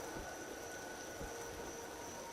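Steady hiss of rain falling in the video game Empyrion: Galactic Survival, an even, continuous wash with a faint tonal hum beneath, no talking.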